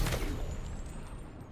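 A gunshot in Death Stranding 2, a single sharp report at the start fading into a rumbling tail, with no other sounds over it.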